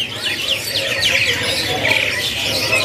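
Zebra doves (perkutut Bangkok) at a bird market kiosk coo and chirp in repeated short calls over steady market background noise, with a voice faintly present.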